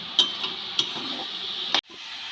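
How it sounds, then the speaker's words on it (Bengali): A coconut and jaggery filling for pitha being stirred in a wok, a soft sizzle broken by a few sharp scraping clinks of the spatula before it falls quiet. "সমানে একটু নেড়ে যেতে হবে নাহলে কড়াইতে লেগে যাবে"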